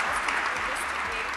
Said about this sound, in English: Ladies and gentlemen, please give them a huge round of applause.